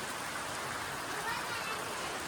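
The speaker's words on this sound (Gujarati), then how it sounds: "ફૂલ વરસાદ ચાલુ છે" Heavy rain pours steadily, a dense hiss of drops pattering on surfaces with no break.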